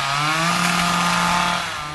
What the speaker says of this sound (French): une puissante scie conçue pour déchiqueter la chair de poisson